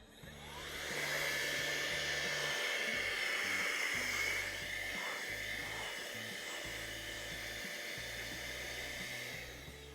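A compressed-air nozzle, kept at no more than 40 psi, blows dust off leather in museum conservation work: a steady close hiss that swells after a second and holds for several seconds, with a faint low hum underneath.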